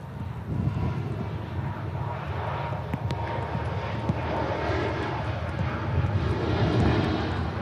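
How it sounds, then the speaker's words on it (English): An Airbus A320neo airliner takes off at Manchester Airport in stormy weather, a distant steady engine rumble and roar heard alone with some wind buffeting the microphone. "Quiet takeoff from the Neo."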